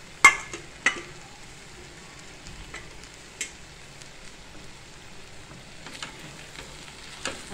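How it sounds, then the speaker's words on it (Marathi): Sautéed fenugreek greens being added to frying masala in a pan, giving a soft steady sizzle with a few sharp clanks of a spoon against the vessel. "आता आपण भाजी टाकूया. ही जी आपण भाजी परतून घेतली ती टाकतोय आपण."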